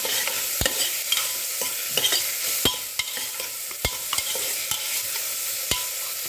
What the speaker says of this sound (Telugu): అల్లం వెల్లుల్లి పేస్ట్ ఇది బాగా ఫ్రై అవ్వాలి.